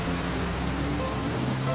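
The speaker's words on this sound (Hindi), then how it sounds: "बारिश बहुत तेज है" Heavy rain pours down steadily, a dense continuous hiss of falling water filling the whole clip with no voices.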